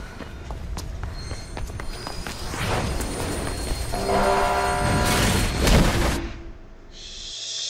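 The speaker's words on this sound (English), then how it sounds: "There's a train coming behind you." Train rushing through a tunnel in the game Mirror's Edge, a loud rumbling roar that swells and peaks near the middle before cutting off, with clanking rail noise and no talking.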